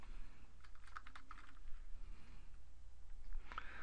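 A computer keyboard clicks in a quick cluster of keystrokes, then a short pause and a few more taps, close and fairly quiet over a low background hum.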